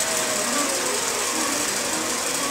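An Intelliquilter computerized longarm quilting machine stitches a pantograph row, giving a steady, continuous mechanical whir with a high buzzing hum that stays even from start to finish, with no voices.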